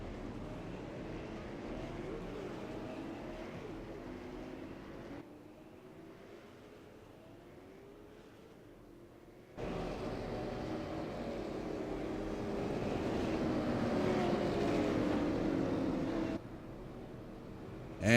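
A field of Tundra Super Late Model race cars in the iRacing video game rumbles around a one-mile track behind the pace car on the pace lap, a steady low engine drone that fades and then grows louder.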